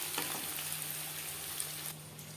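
Spices frying with turmeric powder in oil for an egg curry, cooked until reddish: a faint, steady close sizzle with light crackle and a little stirring, alone without voices.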